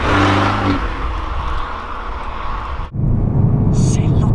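An Abarth 595 Trofeo hatchback accelerating hard from inside the cabin, its engine droning and rising, briefly cutting at a gear change, then surging again loudly.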